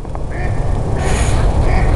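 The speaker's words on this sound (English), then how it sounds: "this guy's out here quacking with the mama duck" A duck quacks loudly and close beside a river below city buildings, with a raspy, drawn-out call and the steady rush of flowing water and outdoor ambience underneath.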